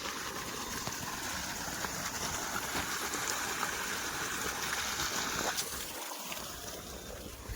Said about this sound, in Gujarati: આ જો ચાટામાં પાણી ચાલે છે